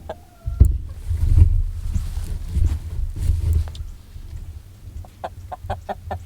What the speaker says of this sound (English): He's actually a pretty big rooster